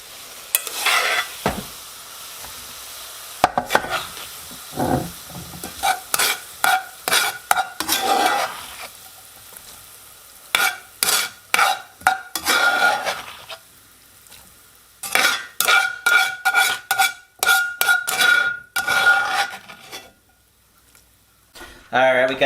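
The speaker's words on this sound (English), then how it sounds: "we're going to also fry up some onions and some garlic" Onions and garlic frying in a pan for rabbit stew, heard as bursts of sizzling and scraping stirring with utensil clatter against the pan, coming in repeated rhythmic spurts between quieter gaps, close and fairly loud.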